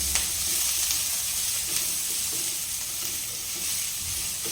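Green onions being stirred in a hot cooking pan, a loud continuous sizzle with light scraping strokes of the spoon, close and without talk.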